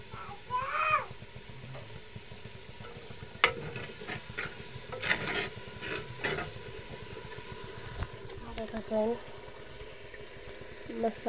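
Spice masala sizzles and frying while being stirred in a handi pot for a semal vegetable dish, with a steady crackling hiss, intermittent scraping of the spoon and a faint voice at times.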